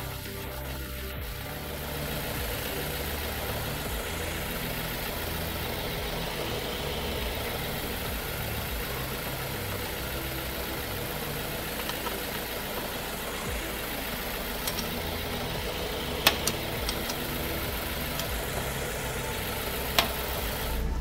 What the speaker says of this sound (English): right away we start the engine. Now that the engine is running